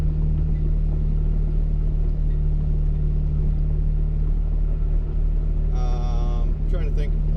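A turbocharged 2008 Honda Civic Si engine pulls hard through the gears, a loud, steady in-cabin drone and rumble throughout, with a brief higher whine near the end.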